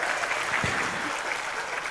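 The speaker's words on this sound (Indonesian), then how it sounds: "Tepuk tangan untuk MRBJ." Steady audience applause at a religious lecture during a Maulid Fest gathering, a dense continuous wash of clapping from a crowd at moderate level throughout, with no speech over it.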